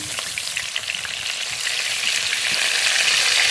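Chicken pieces frying in oil in a pan, a close, bright, continuous sizzle with crackles, growing slightly louder toward the end, with no voices.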